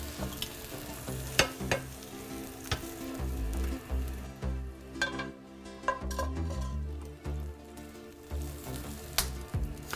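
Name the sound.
eggs frying in a pan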